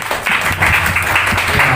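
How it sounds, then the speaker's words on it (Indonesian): An audience at a youth community party claps for a newly graduated doctor, a loud, steady patter of hands with some voices mixed in. "Tepuk tangan dulu dong."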